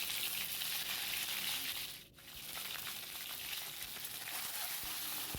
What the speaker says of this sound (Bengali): তেলটা গরমও হয়ে গেছে এবার ডিমগুলো দিয়ে দেবো